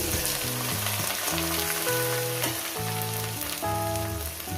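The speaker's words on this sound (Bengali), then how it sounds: "এবার এটাকে মিনিট দুয়েক তিনে ধরে আমি ভাজবো যাতে রসুনের কাঁচা গন্ধটা যাতে চলে যায়" Onion, green chili and garlic fry together in a pan after a dried red chili tempering, making a continuous loud crackling sizzle under steady background music.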